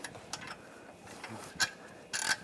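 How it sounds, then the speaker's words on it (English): A bolt being worked out of the catalytic converter clamp on a 2014-2022 Chevrolet Trax makes a few short, close ratchet clicks in brief bursts against a quiet garage background. "Just going to take the bolt out from the clamp up top."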